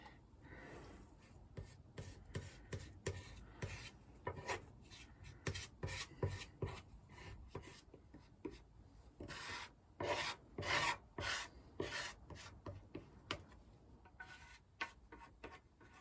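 Grain filler is rubbed by hand onto a sanded guitar body with Aqua Coat Clear, giving close, steady scrubbing strokes in irregular bursts that grow louder and more forceful midway, with no voices.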